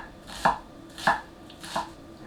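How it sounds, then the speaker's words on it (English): A budget gyuto knife dicing an onion on a cutting board, three crisp evenly spaced chops with soft thuds on the board, close and clear with no talking. "fine diced an onion without any issues"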